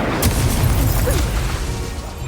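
Incendio fire spell exploding in the wizarding game Hogwarts Legacy, a dense, loud roaring burst of flame and boom that fills the whole moment with sustained rumbling crackle and no voices.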